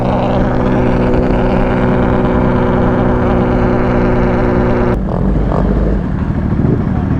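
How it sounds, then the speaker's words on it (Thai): A Honda CBR300R motorcycle with a loud aftermarket exhaust is ridden, its engine droning loud and close with steady harmonic tones, shifting pitch at one point, alongside wind noise. "ข้อเสียของไอ้รถพวกท่อดังเนี่ยมันจะคุยกันไม่รู้เรื่องอย่างนี้แหละ"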